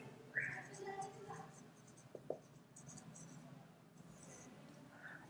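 Chalk or marker scratching on a board during a lecture, soft strokes and a couple of sharp taps, faint and close amid a hushed room with a murmuring voice.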